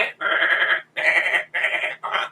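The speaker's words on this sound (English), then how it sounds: "Dang goats are driving me nuts." Goats bleating close by, four loud drawn-out bleats in a row with brief gaps between them, alone without talk.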